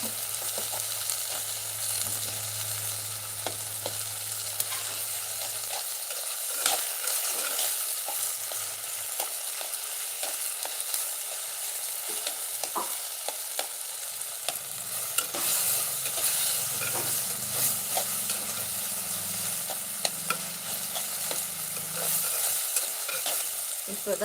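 Okra and tomato sauté in a pan over a wood fire, with a steady bright sizzle and frequent scraping clicks of a spoon stirring, close and continuous.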